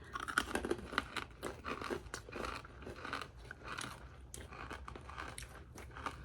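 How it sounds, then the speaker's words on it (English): Crunchy bites into a candy-shelled cereal puff treat, a steady series of close, dry crackling chews and crunches over about six seconds, with no talking. "It's got a little bit of the candy shell left on the outside, so you have that little bit of a crunch."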